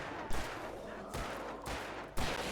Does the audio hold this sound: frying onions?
no